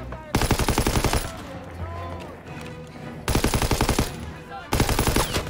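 Call of Duty WW2 automatic gunfire in Ardennes, Belgium: loud rapid bursts of repeated shots separated by a lull of battle noise, with a voice speaking briefly between.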